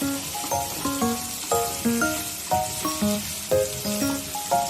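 Sliced onions frying toward golden brown in hot oil, a steady close sizzle with rhythmic stirring strokes recurring about twice a second, no voices.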